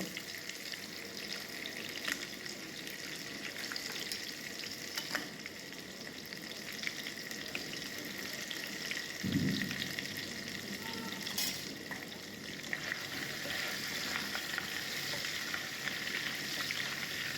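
Large crabs frying in hot oil for a Bengali crab malai curry, giving a steady, even sizzle that holds for a long stretch, with an occasional brief stir or clink over the continuous crackle.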